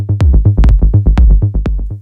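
Kick drum from a DFAM analog synthesizer, played in a quick irregular sequence of deep pitched thumps with sharp clicky transients, loud and upfront with no voices.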